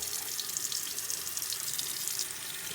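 A makeup brush being rinsed under a running tap, a steady hiss of flowing water into the sink with no speech, constant in level throughout.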